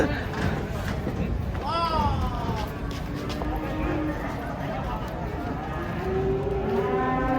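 A large cow lets out a few low moos while coming down from a truck, amid a noisy, busy background with people talking nearby.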